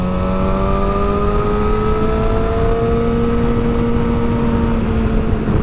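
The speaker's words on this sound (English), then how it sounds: "Man, that exhaust sounds nice." A loud 2006 Suzuki GSX-R600 motorcycle engine drones steadily close by, its exhaust note shifting gradually in pitch as it runs under load.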